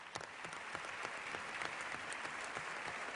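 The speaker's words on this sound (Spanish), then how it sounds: "Un aplauso para los profesionales sanitarios." Applause from a political audience for health professionals, sustained dense clapping at a modest, somewhat distant level with occasional sharper claps.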